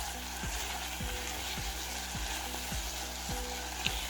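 Chicken korma with dried fenugreek leaves being stirred in a pan over a soft steady sizzle, with regular scraping strokes of the spoon about every half second.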